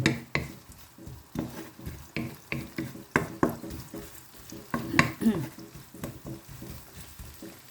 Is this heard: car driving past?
no